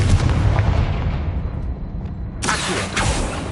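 Confringo explosive spell blast in Hogwarts Legacy, a loud booming burst over a rumbling game soundscape, followed by a second sharp crackling impact near the end.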